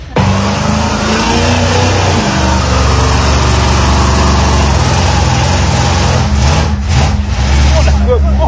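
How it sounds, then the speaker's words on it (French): An American car at a car meet doing a burnout, its engine roaring steadily and loud with the rear wheels spinning, the continuous rumble filling the whole stretch with faint crowd sound beneath. "Enfoncez la pédale de frein pour bloquer la voiture, mettez gaz, les roues arrière patinent, ça fume et ça fait du bruit"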